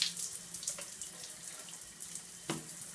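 Shower water runs steadily at close range, a continuous hissing spray with a brief clunk near the end and no voices.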